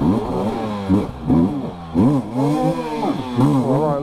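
A GasGas EC 350F enduro motorcycle revs hard and repeatedly off-road, its engine pitch rising and falling in quick bursts, loud and close.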